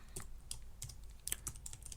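Keys clatter on a computer keyboard as an email address is typed, a quick run of close, light clicks in an irregular rhythm with no talking.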